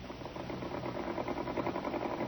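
A sewing machine driven by a knee lever runs steadily, giving a continuous, close mechanical whir with a rapid rhythmic chatter and no voices over it.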